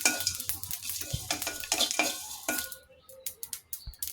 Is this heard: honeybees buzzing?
no